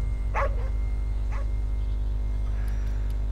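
A dog barks in a video game set in Tokyo, two or three short, sharp yips over a constant low droning game background.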